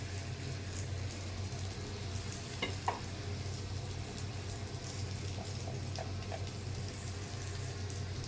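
Papaya, potato and capsicum pieces frying in a tablespoon of oil in a wok, with a soft steady sizzle and a few scattered scraping and clinking strokes, faint and close.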